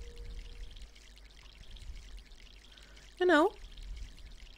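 A short watering sound effect from the video game MySims as a plant gets watered, a brief bubbly pour lasting well under a second over quiet game ambience, with a voice speaking German.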